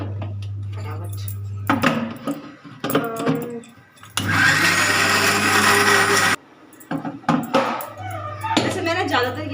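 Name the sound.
blender grinding aloe vera gel and egg hair mask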